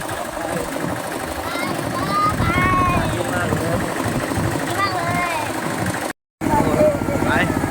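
Farm tractor engine labouring uphill on a hillside farm track, a steady loud motor drone throughout with voices talking over it and a brief dropout near the end.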